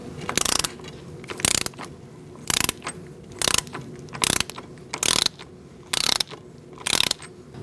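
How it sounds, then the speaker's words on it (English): A hand ratchet tightening the front axle nut on a 2004-2012 Chevrolet Colorado gives eight loud clicking bursts at a steady, even rhythm, close up, with no talking over it. "Now we're going to tighten up our axle nut."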